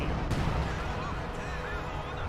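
Artillery barrage in the strategy game Company of Heroes 2: a steady, dense rumble of booming impacts and battlefield noise, loud and continuous, with a voice talking over it.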